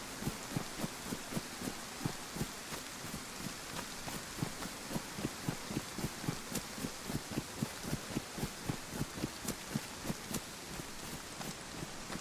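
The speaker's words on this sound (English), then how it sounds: "It's gonna rain just enough to get us wet" Steady rain patters over open ground near Berezino in the video game DayZ, a constant hiss broken by regular soft thuds like footsteps, with no talk.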